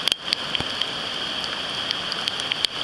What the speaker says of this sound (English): We've had 200 mils of rain overnight, which means this river is definitely overflowing.